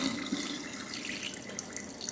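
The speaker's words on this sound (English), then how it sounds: "We're going to pour it off very slowly, and anything that's floating up at the top, we'll just let that come off with the dirty water." Rinse water from washed dosa rice is poured slowly off a bowl. It makes a soft, continuous trickle and splash that stays faint and even throughout, with no voices.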